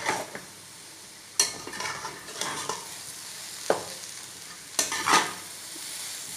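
Makhandi halwa with coconut and raisins cooking in a pan, with a soft sizzle under several sharp spoon scrapes and knocks against the pan, spaced irregularly and fairly close.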